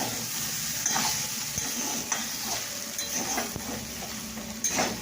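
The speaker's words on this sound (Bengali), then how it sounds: "দেখো আমার আলু ভাজা রেডি হয়ে গেছে, অফ করে দিলাম" Potatoes frying in a pan, a steady moderate sizzle broken by occasional clinks and scrapes of a utensil against the pan.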